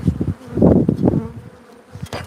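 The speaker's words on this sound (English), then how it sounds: "Mesa, you have bees." Bees buzzing loudly and close, a warbling hum that swells and fades as they move around, with no voices.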